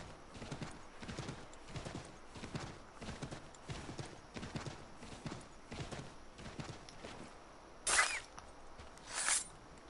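Hooves clip-clop in a quick, even rhythm as a horse moves through Assassin's Creed III, moderately close and continuous, with a couple of brighter bursts of noise near the end.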